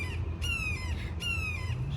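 Birds squawk outdoors near an office park stormwater forebay, giving two loud, harsh calls about a second apart over a low steady background rumble.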